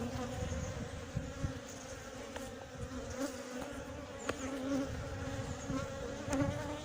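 Honey bees buzz around a beekeeper at a queenless colony in Montgeron, a steady close drone with individual bees flying past, plus scattered clicks and handling noises.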